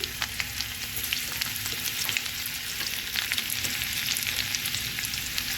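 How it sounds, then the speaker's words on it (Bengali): Nigella seeds and finely chopped garlic fry in hot oil for a cabbage bata, giving a close, steady sizzle sprinkled with sharp crackles and pops. "এবার ওই তেলেই আমি একটু কালো জিরে দিলাম রসুন রসুন দ্বারা কুচু কুচু করে কেটে নিয়েছি"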